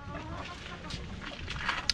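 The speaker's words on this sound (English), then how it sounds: "This is my chicken, guys." Chickens cluck in an African village yard, a soft, scattered clucking mixed with outdoor background noise.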